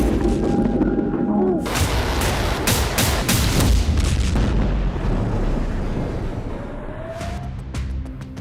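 Blasts and rocket fire in news footage of attacks in Beirut rumble loudly with booming bursts and crackling impacts over a continuous roar, dense and close before easing slightly toward the end.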